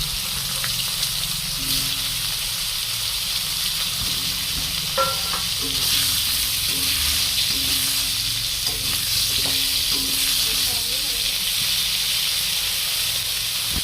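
Cauliflower fries in oil left over from frying rohu fish, seasoned with salt and turmeric, giving a steady close sizzle throughout with occasional scrapes and clinks of stirring.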